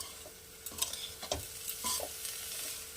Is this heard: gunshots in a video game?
no